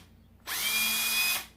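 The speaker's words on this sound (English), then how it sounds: "So I've got my drill here." A power drill bores a hole through plastic hula hoop tubing. It starts abruptly after a quiet moment and whines steadily at close range for about a second before cutting off.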